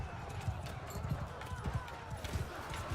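Horse hooves gallop in the medieval battle game Mount & Blade II: Bannerlord, a steady rolling clip-clop rhythm under a dense game soundscape.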